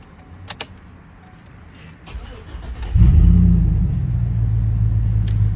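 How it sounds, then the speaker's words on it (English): A few faint clicks and a crank, then a Chevrolet Tahoe's large engine starts with a surge and settles into a steady, deep idle nearby. "we're just gonna unplug it now and start the Tahoe up"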